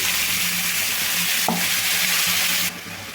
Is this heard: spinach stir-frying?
yes